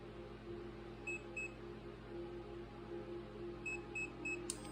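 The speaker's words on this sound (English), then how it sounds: "I'm going to turn it on, wait till it beeps." Two pairs of short electronic beeps from a SportDog 425X dog training collar remote, an early double beep and a later triple, faint against a quiet room hum.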